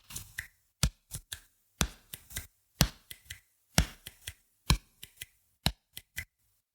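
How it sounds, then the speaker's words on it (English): Crisp, close slaps from a jump rope drill called penguin hops: each hop lands with a sharp foot smack on the floor, followed by two quick hand slaps against the thighs, repeating in a steady rhythm with silence between. "each time you jump, you'll hear your feet hit the ground and smack and rebound"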